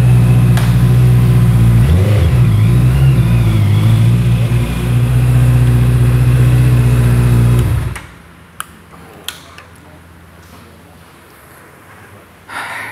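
A modified Honda CB100 motorcycle engine revs loudly and steadily for several seconds, then cuts off abruptly, leaving near silence with a few faint clicks.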